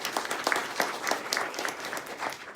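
An audience at a ladies' fashion show claps in a short burst of applause, steady and fairly close, lasting a couple of seconds with no voices over it.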